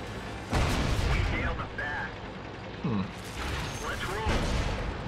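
Tank cannon shots fired in a tank video game, a few loud booming blasts spaced over several seconds, with people talking over the action.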